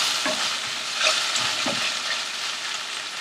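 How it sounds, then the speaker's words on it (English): Chopped tomato being stirred in a pan for a drumstick and potato curry, a steady close sizzle of frying with soft scraping strokes of the spoon, no talking. "Give this a nice mix so that the tomato can get nice and soft and release its moisture."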